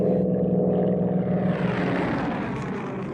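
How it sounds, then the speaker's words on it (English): A propeller plane climbs in flight toward 4,000 feet, its engine humming loud and steady and droning on with a low rumble and no voices. "that big, beautiful plane humming under your control"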